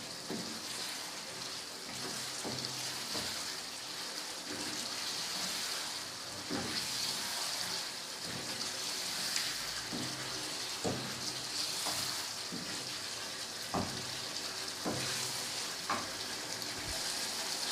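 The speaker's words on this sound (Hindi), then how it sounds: "अच्छा सा हम इसको भूनेंगे।" Patiala-style chicken curry being fried in a pan: a steady, close sizzle with occasional soft stirring knocks, alone without talk.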